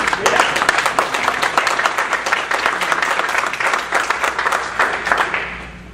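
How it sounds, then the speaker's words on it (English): Loud, close crowd applause at a volunteer expo, dense rapid clapping from many people that stays strong throughout and tapers slightly at the end, with a voice faintly underneath. "I gotta applaud you"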